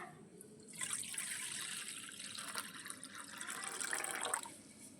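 Warm water is poured into a bowl of washed rice to soak it, making a steady splashing, trickling stream that starts suddenly and runs on close by in a quiet kitchen, with no speech.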